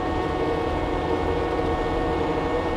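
A tractor running a bush hog mower at full throttle through sparse brush, giving a steady, loud, continuous low engine drone with a dense mechanical rumble and no break in level.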